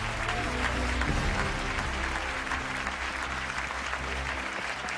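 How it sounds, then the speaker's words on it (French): A television studio audience gives sustained, full applause for volunteers and Air France staff at a health-heroes gala, a thick, continuous roar of clapping with a faint low hum beneath. "Applaudissez encore les bénévoles et le personnel d'Air France"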